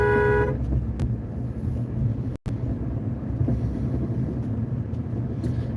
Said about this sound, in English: Can't pass by La Poubelle without at least a little honk.